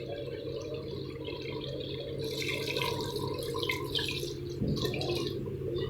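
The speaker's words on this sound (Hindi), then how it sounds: "तो मैं इसमें पानी ऐड कर देती हूँ।" Water is poured into a pot of aloo gosht curry with raw potatoes, a steady splashing pour that runs continuously at close range and swells slightly in its second half.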